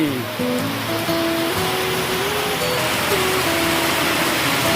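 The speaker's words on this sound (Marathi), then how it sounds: "पावसाने आज जोर धरलेला आहे. वावाने पाऊस झालेला आहे." A dense, steady monsoon downpour hisses loudly throughout, with a voice speaking over the rain.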